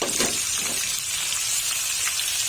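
Frying sizzle of ingredients being sautéed in a pan before salted tuna is added, for ginataan sinaing na tulingan; a steady close hiss with faint stirring and no talk.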